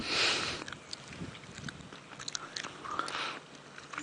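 Someone chewing acacia-like wild plant leaves on a bush safari drive, with close, irregular crunchy bites and mouth noises over quiet outdoor ambience, no talking.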